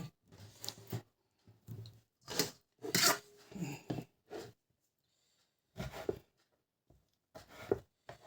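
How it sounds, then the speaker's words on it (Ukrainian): Bursts of knife chopping on a board in short uneven clusters separated by pauses, close and moderately loud. "Зараз я це нарізаю на дрібненькі-дрібненькі кусочки."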